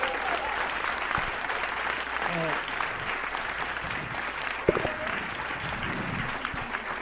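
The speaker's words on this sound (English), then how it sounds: "let's give these guys a big round of applause" Audience applause at a reunion show for a television series, steady dense clapping throughout at moderate level with a few cheers and voices mixed in.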